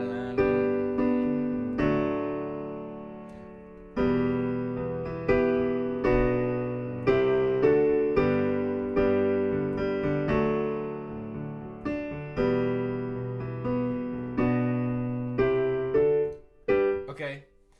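Piano plays the chorus of a song, with steady block chords and a melody line on top, clear and close with no voice, ending on a final struck chord.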